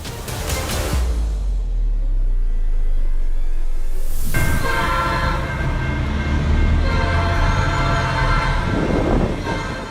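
A train rumbles loudly through a level crossing, its horn blaring near the start, the heavy roar of wheels and cars continuing steadily throughout.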